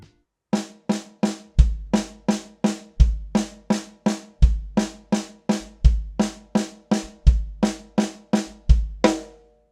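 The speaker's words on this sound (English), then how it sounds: "So snare and kick alone will sound like..." Drum kit snare and kick playing a quarter note triplet exercise, a steady stream of sharp snare cracks broken by regular deep kick thumps, close and dry with no talking.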